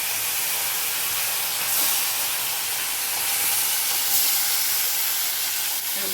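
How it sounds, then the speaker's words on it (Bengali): Gudjauli fish fry in a hot pan with oil, making a loud, continuous broadband hiss that holds steady throughout with only slight swells. "আমার কড়া গরম হয়ে গেছে, এবার আমি মাছগুলো ভাজতে দিচ্ছি"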